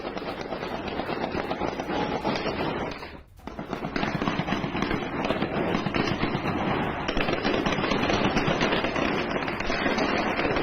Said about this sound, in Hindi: सीरिया के एलेपो यूनिवर्सिटी में फायरिंग की तस्वीर आपके सामने होगी